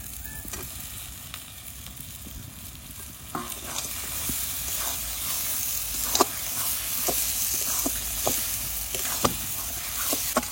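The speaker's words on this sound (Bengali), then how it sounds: "মশলা কষানো হয়ে গেছে, এখন আলুটা দিয়ে দেবো।" Potatoes are added to a spice masala that has already been fried down, and they sizzle steadily in the pan. Sharp scraping clicks from a stirring utensil come at irregular moments, with no voices.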